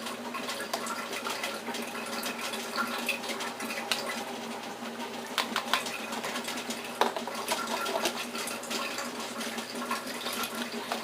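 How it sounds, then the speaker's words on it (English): A pressure cooker boiling steadily while jars are prepared for canning poke, giving a continuous hissing, bubbling rush with scattered clinks and knocks close by, no talk. "You can hear the sound of my pressure cooker boiling behind me"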